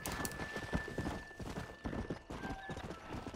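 A Kentucky Saddler horse in Red Dead Redemption gallops with steady, rapid clip-clop hoofbeats, close and continuous, while a faint high tone hums underneath.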